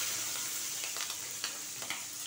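Cabbage fries in a pan with green chillies added, giving a steady, close sizzle with a few soft stirring scrapes and ticks through it.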